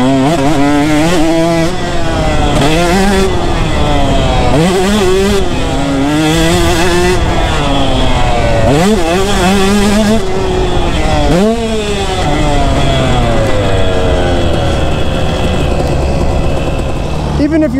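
A two-stroke motorcycle ridden hard, its engine loud and close with repeated sharp revs rising and falling through the gears in a continuous buzzing wail.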